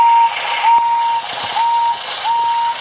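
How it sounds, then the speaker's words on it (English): A steam locomotive whistle blows in several short, repeated blasts, a bright steady tone over a breathy hiss of steam, in a cartoon. "Emily blew her whistle again."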